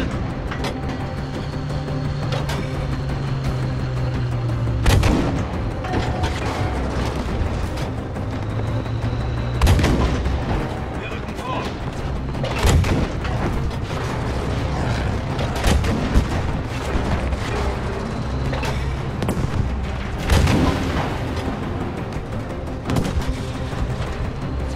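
Tank cannon and artillery fire boom in the Battlefield V video game, with heavy blasts roughly every five seconds over a constant rumble of engines and distant gunfire, loud and near.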